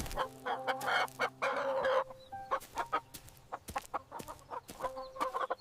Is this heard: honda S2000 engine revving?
no